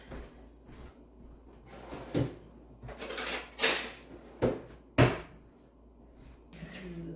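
Someone in a home kitchen, partway through making a pineapple juice cake, reaches into a drawer for a knife: quiet rummaging followed by several sharp metallic clinks and clatters of cutlery and a sliding drawer, spaced out over a few seconds.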